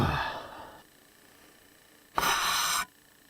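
A single close human sneeze bursts out near the end, preceded by a sharp breathy inhale and a quiet pause.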